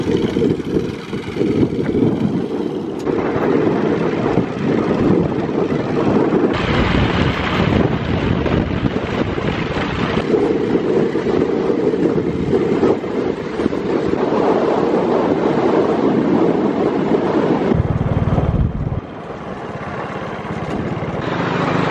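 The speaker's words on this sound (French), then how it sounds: "Il y a beaucoup de vent là sur cette fin de journée." Strong wind buffeting the microphone in the town centre of Zagora, Morocco at the end of the day, a loud continuous rushing roar with gusty surges and a brief lull near the end.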